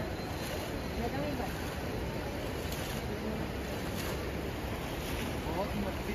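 Heavy rushing flow of the Ganga river at Har Ki Pauri in Haridwar, a steady broadband roar of turbulent water with wind buffeting the microphone, continuous and close throughout.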